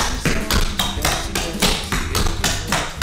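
Clogging dance shoes strike a hard floor in an intermediate class's Callahan basic step, a fast, steady run of loud, crisp taps and stomps close by with no talking.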